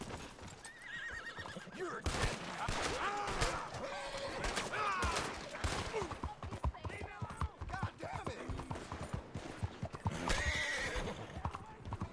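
A horse whinnies and snorts amid clopping hooves and scattered gunfire-like bangs in Red Dead Redemption 2, with game sound effects and occasional voices underneath.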